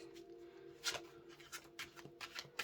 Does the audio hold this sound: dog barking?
no